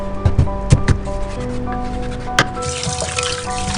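Running water splashes and trickles over raw chicken pieces being washed by hand in a home kitchen, with irregular knocks and splashes up close, fairly loud, and no talk over it.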